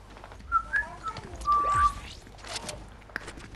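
During a Fortnite match, a person whistles as a signal: a few short chirping notes, then one longer sustained tone. The whistling is fairly quiet over a soft background.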